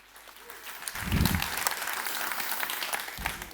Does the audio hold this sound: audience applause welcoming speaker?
yes